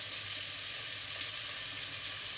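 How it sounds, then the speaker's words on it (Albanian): Onions frying in a pan, giving a steady, close, bright sizzle that holds evenly throughout with no voices. "të skuqet pak qepa"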